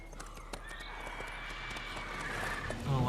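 Horse hooves clip-clop and a neigh sound during a ride in The Witcher video game, steady and moderately loud under background game ambience, with talk-like voices faintly present.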